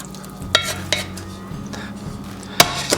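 A spoon stirs cream mixture into a pot of venison chowder, giving a few sharp metallic scrapes and clinks against the pot over a soft steady simmering hiss, close by, with no talking.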